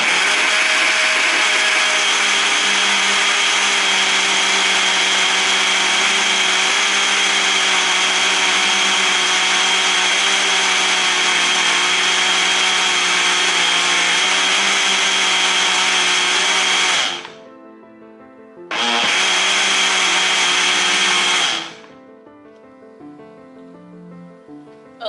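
A blender mixes turmeric and ginger juice pulp with honey, a loud, steady motor whir running continuously for about seventeen seconds, briefly stopping, then restarting for a few more seconds before cutting off.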